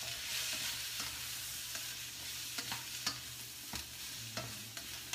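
Carrots stir-fry in a pan with a low, continuous sizzle. Repeated scraping strokes of a spatula against the pan sound close by.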